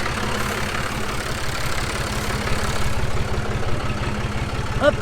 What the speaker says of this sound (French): Ensuite je monte sur le tracteur, je vais faire une petite marche arrière, vous allez voir.